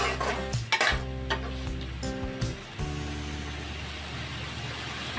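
Cooked spice paste for a prawn and papaya dish is stirred in a pan, with a soft sizzle under repeated metal spoon scrapes and clanks against the pan, close by.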